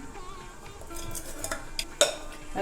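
Sugar syrup is added to Annavaram prasadam cooking in a pot, with soft stirring scrapes, a few light metallic clinks and a sharper clank near the end, close by.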